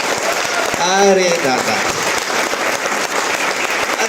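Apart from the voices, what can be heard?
audience applause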